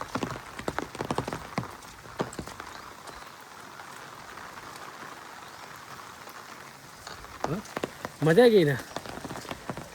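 Steady rain falls on a muddy road, a soft continuous patter with scattered louder drops, while a person talks briefly at the start and again near the end.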